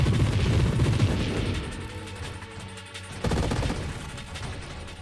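Rapid, dense barrage of small-projectile video game gunfire, a continuous rattling stream that eases off briefly then surges again, loud and close throughout with crashing impacts.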